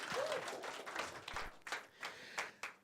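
Brief, scattered clapping from a small group at a political campaign launch, irregular and fairly quiet, tapering off into a few separate claps.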